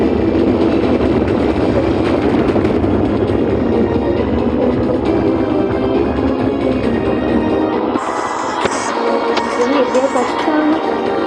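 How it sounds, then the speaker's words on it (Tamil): A loud, continuous rumbling clatter of a passing train in the video game Baby In Yellow fills the scene, with dense mechanical noise throughout and brief higher-pitched bursts near the end. "என்னடா ட்ரெயின்லாம் வழியில் போடுறீங்க?"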